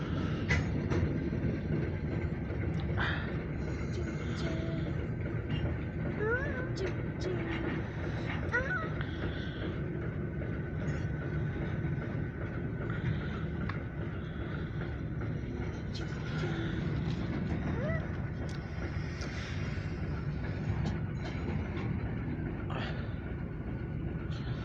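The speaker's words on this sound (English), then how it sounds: "We got at least some of the hopper train and the Alco" An Alco 85 locomotive hauls a grain hopper train past with a continuous low rumble and rolling rail noise. Scattered squeals and clanks run through the full length, and a few faint voices talk in the background.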